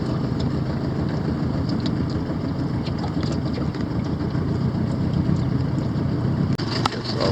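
A trolling boat's engine on Lake Pontchartrain drones steadily, a continuous low rumble mixed with broad wash noise, constant in level throughout.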